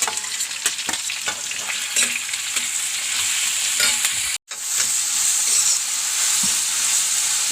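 Garlic and green chillies sauté in a pan for a crab roast, a bright, dense sizzle with frequent stirring scrapes. It cuts out for a split second midway, then sizzles on with no speech.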